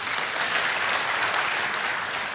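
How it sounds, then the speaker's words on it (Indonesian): Church congregation applauding during a sermon, a steady dense wash of clapping that holds at an even level for a couple of seconds with no voices over it. "Kasih tepuk tangan."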